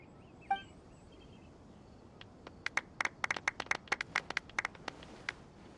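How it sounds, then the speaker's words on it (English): Scattered, sparse claps from a small crowd in a video game award ceremony, starting faintly and building into a brief patter of distinct hand claps over a quiet background. "Let's give our champion Kaveh one last big round of applause"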